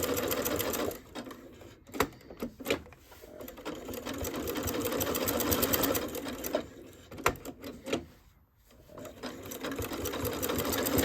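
A sewing machine stitches a bath mitt with a steady, rapid mechanical whir, briefly pausing and restarting around a back stitch at the seam's end, close and alone.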